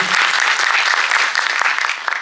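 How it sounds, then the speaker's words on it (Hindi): A crowd at a drama event applauds loudly and densely, a continuous rush of many hands clapping close by. "मैं चाहूँगा एक बार जोरदार उनके लिए तालियां हो।"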